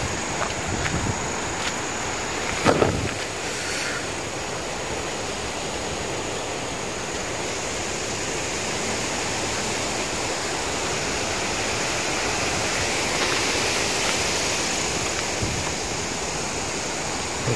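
Strong gale-force wind roars outdoors in Korea, a dense continuous rushing noise with gusts that swell slightly, and no voices.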